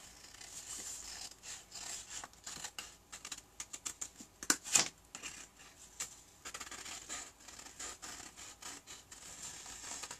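Scissors snipping through patterned craft paper to cut out a paper flower for a handmade card, a quiet, close series of small irregular cuts and paper rustles with no talking.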